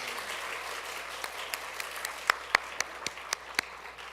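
A church congregation applauds at a graduation ceremony for an evangelism training course, a soft steady patter of many hands with a few sharper, louder claps standing out near the end.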